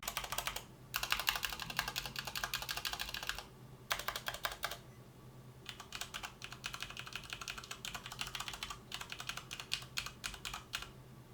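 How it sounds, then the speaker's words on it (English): Typing on a Thermaltake Argent K5 RGB mechanical gaming keyboard with linear switches similar to Cherry Reds, a close, steady clatter of keystrokes in several long runs separated by brief pauses. "Here is the sound test."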